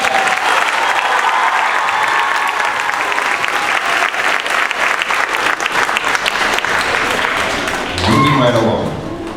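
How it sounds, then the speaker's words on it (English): Loud, dense audience applause for a drummer at an elementary school spring concert, continuous clapping for about eight seconds, then a voice talks over the tail end as the clapping fades. "give it up for Rishan on the drum set."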